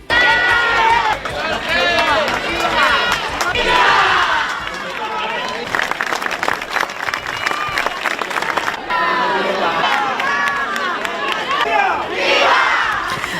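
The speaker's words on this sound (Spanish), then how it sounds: "fueron recibidos en Chiva y Utiel sin incidentes y entre los aplausos de los congregados para saludarlos" Crowd gathered in Chiva and Utiel cheering and applauding the visit of King Felipe VI and Queen Letizia to areas hit by the DANA flood, with loud shouts, claps and many voices rising and falling throughout.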